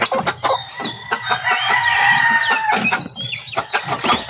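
A red junglefowl rooster clucking and chattering close by, with squeaky rising calls and short clucks over a soft rustling outdoor background, moderately loud.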